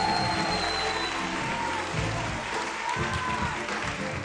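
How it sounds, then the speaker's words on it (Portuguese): Dense TV studio audience applause on a Brazilian game show, steady and loud throughout, with a few whistles rising over the clapping. "Salve de palmas para João Henrique."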